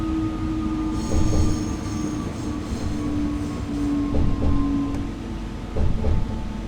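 A Newag Impuls 2 electric multiple unit arriving at Piotrków Trybunalski station in the SimRail train simulator at night, with loud continuous rolling rumble, sustained wheel squeal and brake tones, and periodic clunks as it slows.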